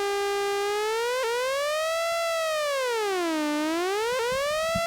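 A Eurorack modular synth VCO has its pitch swept by a slow LFO. A steady, bright tone rises and falls in smooth, siren-like waves, with small jumps where the pitch resets.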